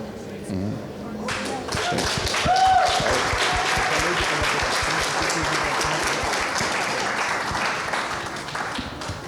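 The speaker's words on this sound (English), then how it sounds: "Give them a big round of applause again." An audience at an Open House For Good event breaks into a long burst of dense, loud applause that keeps going at a steady pace, with a voice faintly underneath near the start.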